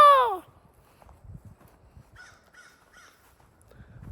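A crow caws once, loud and close, outdoors, followed by quiet shuffling and faint, brief chirps in the background.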